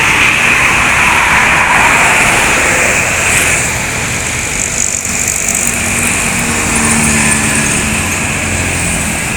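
Heavy engine roar rolls steadily for the whole stretch as NPM intercity buses from West Sumatra pass along a busy road near Palembang during the holiday homecoming traffic, loud and continuous with a high whine on top.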